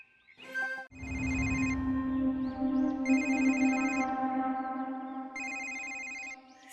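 A phone rings with an incoming call, a bright electronic ringtone repeating in bursts over a steady low hum, fairly close and clear, with no talk over it.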